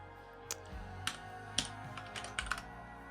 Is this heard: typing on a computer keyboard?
yes